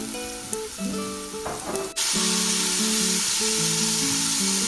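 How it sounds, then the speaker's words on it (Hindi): Whole garam masala spices fry in oil with onions for mutton yakhni pulao, a soft crackle that jumps into a loud, sustained hiss as they drop in, with a melodic tone running underneath. "मैं सारे साबुत गरम मसाले जो हैं वो भी डाल दूंगी और उनको भी ऑयल के साथ और प्याज के साथ फ्राई"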